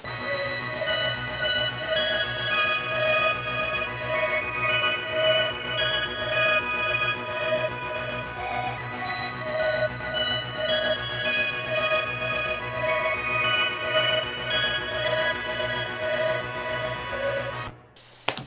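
A synthesizer plays alone, sustained tonal notes shifting in a steady pattern with a pulsing low layer, ending abruptly near the close.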